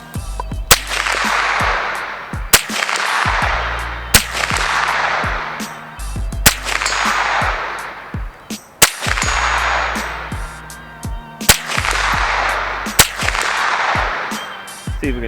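A Thompson Center TCR-22 rifle fires five sharp, loud cracks at a target at roughly three-second intervals, each shot followed by a short ringing echo and some faint handling clicks between them.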